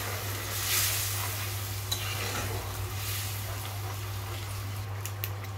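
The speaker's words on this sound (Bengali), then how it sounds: "এবার আমি এর মধ্যে দিয়ে দিচ্ছি গরম জল" Hot water goes into frying masala for a catfish and kohlrabi curry, producing a steady broad hiss and bubbling sizzle with a few faint clinks, over a constant low electrical hum.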